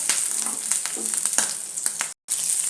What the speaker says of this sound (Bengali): এক এক করে ডিম ভেজে দিচ্ছি।